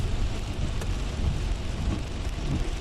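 Heavy continuous rain during bad weather in Cavite pours in a dense, loud, unbroken roar with deep low rumble, heard close and without voices.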